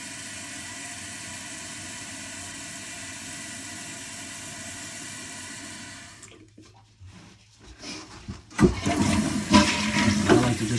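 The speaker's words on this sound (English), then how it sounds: "I like to just keep flushing the toilet while I'm working" A newly installed Project Source toilet with a 3-inch flush valve flushes after a long stretch of steady low rumbling, the water surging loudly and rushing down near the listener.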